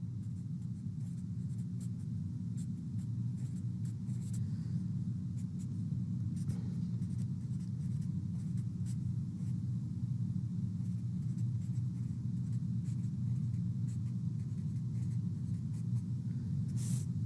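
A formula for bond current yield is written out by hand, giving soft, continuous strokes and faint scratchy taps over a steady low rumble for about seventeen seconds, with no speech.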